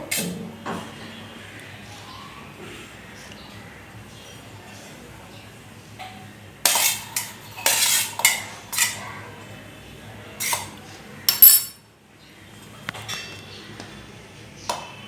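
Seeds are dropped into a mixer grinder jar while preparing stuffed spiny gourd, producing scattered clinks and rattling knocks against the jar, sharp and close, clustered after a quieter stretch with some faint background talk.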